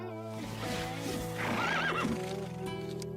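A horse whinnies loudly with a wavering neigh while hooves clop nearby, over a low, steady background drone.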